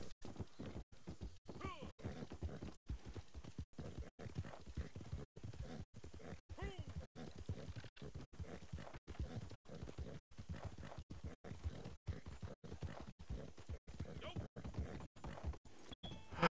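Horse hooves clip-clopping in the Red Dead Redemption 2 video game, a steady, rhythmic four-beat gait of sharp hoof strikes repeating throughout, close and clear, with someone talking over parts of it.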